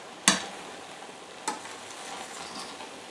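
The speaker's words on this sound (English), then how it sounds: "So I'm just giving it a brief stir." A spoon stirs basmati rice and peas in a pot for Punjabi-style cooking, giving two brief scraping clatters, the first sharper, over a quiet background hiss.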